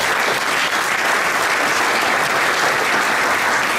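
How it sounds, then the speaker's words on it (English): Sustained applause from an awards ceremony audience, dense and loud, with steady clapping throughout and no break. "I think that deserves a round of applause."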